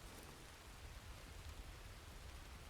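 Steady rain falls in the RedM video game, a soft, even hiss that stays constant throughout at low level.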